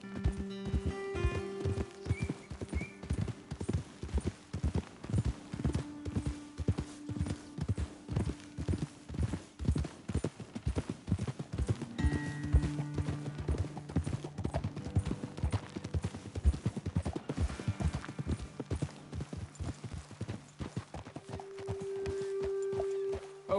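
Horses ridden at a walk and trot across open ground in Red Dead Redemption 2, their hooves clip-clopping in a steady, continuous rhythm throughout, with tack jingling, a brief whinny and a low droning musical score beneath.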